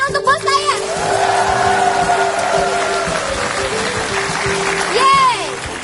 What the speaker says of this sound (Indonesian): beri tepuk tangan untuk bos saya